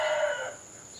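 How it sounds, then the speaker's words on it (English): A chicken crows or clucks loudly for about half a second close by in a garden bean patch, then fades into quiet background. "of course we have the chicken commentary in the background"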